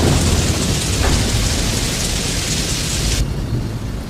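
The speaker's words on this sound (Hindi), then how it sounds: "उसी रात ओले गिरे" Hail and heavy rain pound down in a dense, constant roar with a low thunder rumble beneath, loud and unbroken, with no voices, as a sound effect in a story about a crop-destroying storm.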